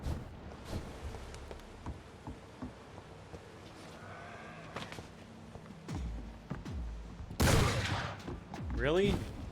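Shotgun fire in the video game Vampyr, scattered booming shots amid a busy mix of combat effects, with louder bursts toward the end.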